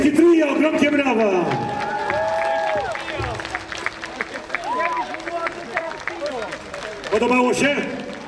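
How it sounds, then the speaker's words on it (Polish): An outdoor festival audience at a pipe celebration in Przemyśl claps and cheers after a trio's performance, applause rising then thinning out, with a loud announcer voice and crowd chatter over it. "ogromnie brawa!"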